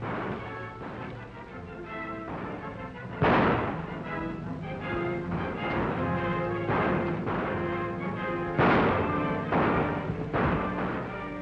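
Repeated gunshots in a 1936 western desert shootout, sharp reports cracking out at irregular intervals over a dense, reverberant background of film score, loud and close.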